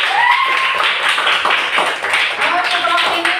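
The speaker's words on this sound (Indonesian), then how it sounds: "Baik, kita beri tepuk tangan untuk kita semua." A class of schoolchildren claps together in a classroom, a close, fairly busy burst of hand claps running throughout, with children's voices mixed in over the clapping.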